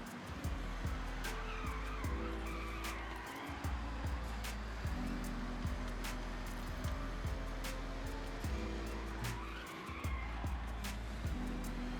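Race cars launching at the start of a Forza Horizon race: engines roar and rev continuously, with repeated gear-shift drops and rising pitch sweeps, plus sharp clicks and brief tire squeal throughout the mix.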